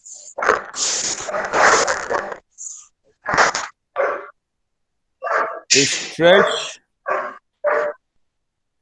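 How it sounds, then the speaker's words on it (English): A dog barks indoors in a house, several sharp barks scattered among people talking, with the barking and voices alternating in uneven bursts. "Is that dog in your house?"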